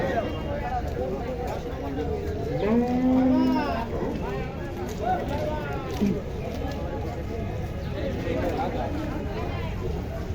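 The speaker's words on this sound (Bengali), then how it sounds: "যারা বড় বড় গরু কিনতে চান আমাদের হাটের মধ্যে চলে আসুন" Cattle at a busy livestock market, with a cow lowing once among constant crowd chatter, people talking throughout in a noisy open-air setting.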